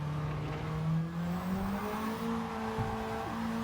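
A race car engine in Gran Turismo 7 hums steadily and rises in pitch as the throttle is rolled on through a corner mid-race, a smooth continuous drone with faint tyre noise.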